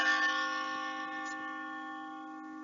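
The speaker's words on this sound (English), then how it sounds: "Ring the bell!" Bell struck once during a stage performance of Macbeth, a single ringing tone with steady overtones that fades slowly over a few seconds, fairly quiet and heard alone.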